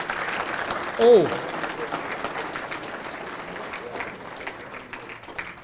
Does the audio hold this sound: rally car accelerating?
no